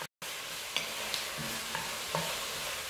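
Ground turkey sizzles and fries in a pan, a steady close hiss broken by a few soft taps as it is stirred, with no talking.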